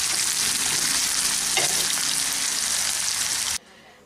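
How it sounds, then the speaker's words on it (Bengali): Sliced onions deep-frying in hot oil until dark brown for a mutton curry make a loud, steady hiss and crackle with occasional stirring, then the sizzle cuts off abruptly just before the end. "এগুলোকে একদম ডিপ বাদামি করে ভেজে নিচ্ছি।"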